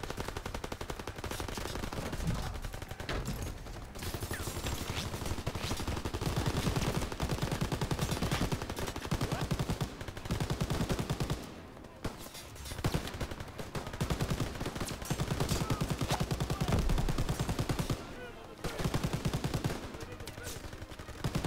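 Browning Automatic Rifle on full auto in Call of Duty: WWII, long rattling bursts of rapid gunfire going almost without a break, with brief pauses and a voice talking over the shooting.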